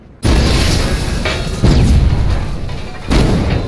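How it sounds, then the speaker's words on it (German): A loud, deep boom from a small video game explosion bursts in suddenly, followed by rumbling blasts with two more heavy thuds, close and dominant. "Eine sehr kleine Explosion."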